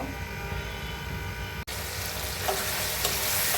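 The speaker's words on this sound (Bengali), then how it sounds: "আলু কষিয়ে নিয়েছি" Potatoes fry and stir-fry in a pan for a drumstick and potato vegetable curry, a steady close sizzle with a brief break partway through, then continuing crackle and scraping.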